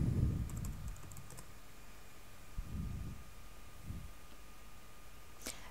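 Someone types a command on a computer keyboard at a Linux terminal, producing a few faint, scattered key clicks over a low background hiss.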